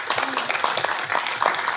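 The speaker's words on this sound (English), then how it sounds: "Please, a round of applause for police." A council meeting audience applauds the police with steady, dense clapping that fills the room throughout the short stretch, without pause.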